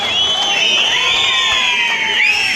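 A large crowd at a political rally in Anni, Kullu, where Chief Minister Sukhu is speaking, cheers and whoops loudly without a break. High shouts and whistle-like cries rise over a dense roar of voices.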